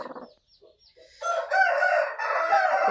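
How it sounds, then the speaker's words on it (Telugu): A few soft chirps, then hens cluck and call loudly close by on a farm. "ఈరోజైతే ఒక రెండు కోళ్ళు అయితే కుంపట దింపడం జరిగింది"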